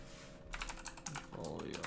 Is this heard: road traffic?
no